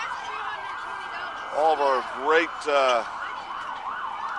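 Fire and EMS vehicle sirens wail at a small-town parade, several rising and falling siren sweeps sounding close and loud while someone talks over them.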